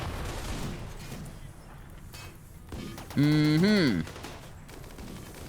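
Turret gunfire in the colony game Rimworld, a burst of rapid shots and booms layered with a loud synthetic rising-and-falling tone near the end, over low background noise.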